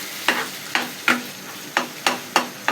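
A spoon or spatula stirs food frying in a pan at home, scraping in a steady rhythm of about seven loud strokes over a continuous sizzle, with no voices.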